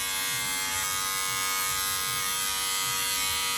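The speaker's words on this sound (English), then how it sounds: "We're going to use a grade 2, put it on the clipper, and we're going to go upside down" An electric hair clipper fitted with a grade 2 guard buzzes steadily through hair during a buzzcut skin fade at a barber studio, a close, loud, unbroken hum with no talking.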